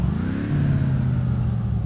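A game car's engine revs up in My Summer Car, a loud, steady roar whose pitch climbs and then holds high for a couple of seconds, close and alone.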